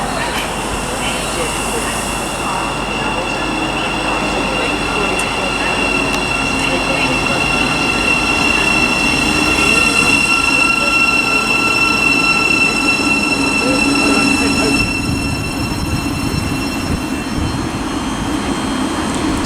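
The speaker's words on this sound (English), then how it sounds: "arriving now is the 1551 Thameslink service from Luton to Rainham" Thameslink Class 700 electric train arriving at a station platform on the Midland Main Line at Luton Airport Parkway, a steady loud rumble with wheel squeal and high tonal whine throughout, under light background talk.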